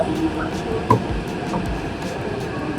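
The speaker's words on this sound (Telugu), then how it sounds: "ట్రైన్ వచ్చిందేమో అనుకున్నా నాకు రాలే అవతల సైడ్ వచ్చింది" Metro train pulling into a station platform, a steady low rumble and rolling rail noise with a brief clank, heard from the platform.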